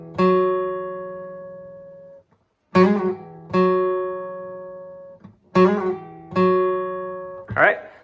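Acoustic guitar plays a riff from a song: ringing picked notes that sustain and decay, in short phrases separated by brief gaps, close and clear with no talk over it.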